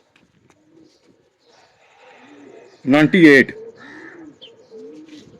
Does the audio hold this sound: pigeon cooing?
yes